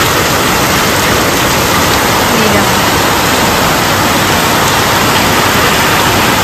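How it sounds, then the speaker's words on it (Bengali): Heavy monsoon rain pours down at night, a dense, unbroken roaring hiss, loud and constant throughout with no pauses. "বিশাল জোরে বৃষ্টি নেমেছে।"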